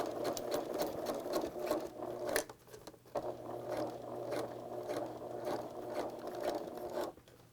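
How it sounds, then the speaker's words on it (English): A sewing machine stitches basting along zipper tape on a seam allowance of a centered zipper, a steady close rapid whirring hum broken by a short pause before running on again, no speech. "So now I'm going to put it in the machine going the other direction and stitch down the center."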